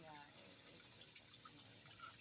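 Hot water spraying hard from a broken, leaking pipe under a rotted house, a constant close hiss and gush filling the whole clip.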